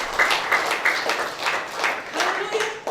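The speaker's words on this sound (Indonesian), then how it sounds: "Berikan tepuk tangan yuk bagi Tuhan." A church congregation claps together in steady, fairly loud applause during a worship service. A voice is heard over the clapping.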